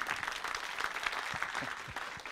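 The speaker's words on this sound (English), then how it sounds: "A special clap as well." An audience at a brand-value conference claps in a steady, moderately distant burst of applause lasting a couple of seconds.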